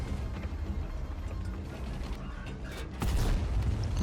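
Tank and artillery gunfire in a Wargaming battle game: muffled mechanical rumbling and scattered distant shots give way to a heavy, close boom that leaves a louder rumble behind it.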